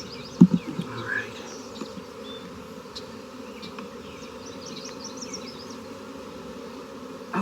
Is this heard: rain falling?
no